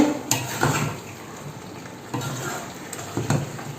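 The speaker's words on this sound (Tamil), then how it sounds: "இது நல்லா கிளறி விடுங்க" Mashed elephant yam masiyal with grated coconut stirred in a pan, a spoon scraping through the thick mash in a few distinct strokes over a soft sizzle, close and clear with no talking.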